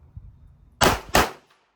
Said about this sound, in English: Let's try the offhand shooting.